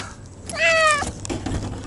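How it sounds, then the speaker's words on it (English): A cat meows near an animal trap, one drawn-out, fairly close meow standing out clearly over a quiet outdoor background with faint rustling. "Oh no, that's a kitty cat."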